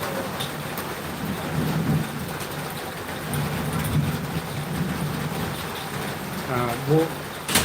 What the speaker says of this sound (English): the rain is now getting heavier